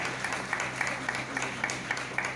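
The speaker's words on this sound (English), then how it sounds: "Can we all give a huge round of applause for the wonderful work that we are deserving of?" An audience claps at a school event, El Shaddai Academy in Assagao, Goa, during a visit by the Governor of Goa. The applause is moderate and brisk, with a steady patter of close hand claps and no voices over it.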